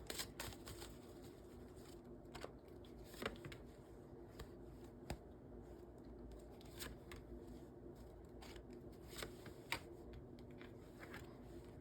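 Tarot cards shuffled by hand during a reading, a faint continuous run of soft close riffling clicks and flicks with no talk.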